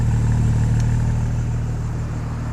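A BMW M235i idles nearby with a steady, deep engine rumble that holds even and loud from start to finish.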